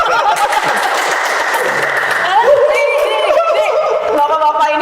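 An audience applauds at an Indonesian chess event, a dense wash of clapping that fills the whole stretch while voices and a few chuckles rise over it.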